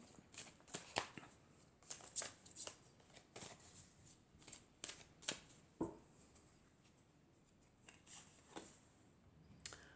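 Tarot cards being shuffled and drawn, a quick run of crisp, papery riffles and snaps in an irregular rhythm, close and fairly quiet, with no talking.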